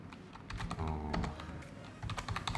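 Keys clatter on a computer keyboard in quick irregular bursts of typing, close and moderately loud, with a brief pause before the tapping resumes.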